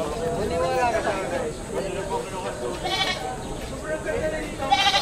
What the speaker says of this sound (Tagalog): Malalaking mga kambing to.